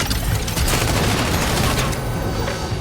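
Dense, continuous video game gunfire from the mech game Mecharashi, a loud sustained fusillade of rapid shots and booms aimed at a mech's legs, close and without pause.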